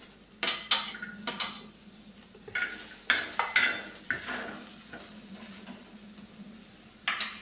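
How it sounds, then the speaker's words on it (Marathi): Two lengthwise-sliced onions fry in oil until brown, a soft sizzle beneath repeated close scrapes and clinks of a spatula stirring in the pan. "काही 2 कांदे उभे चिरलेले मी त्याला पण चांगलं ब्राऊन होईपर्यंत भाजते."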